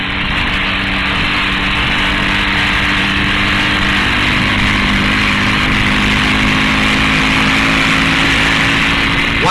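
A 1958 race car engine at Road America drones steadily and loudly for the whole stretch, a continuous sustained roar with no breaks.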